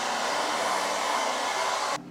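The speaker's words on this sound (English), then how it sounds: "for the sake of the video, I wanted to use the hair dryer" A hair dryer blows steadily and loudly at close range for about two seconds, a broad constant whoosh that cuts off abruptly at the end, used to style hair.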